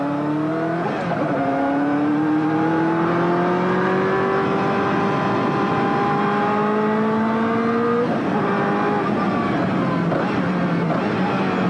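A 1995 BPR Global GT race car takes the final hairpin at Jerez, its engine note climbing steadily through the revs, dropping sharply around a gear change, then rising again, loud and continuous.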